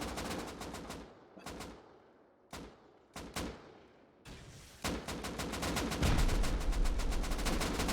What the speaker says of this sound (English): You hear the explosions again still going off.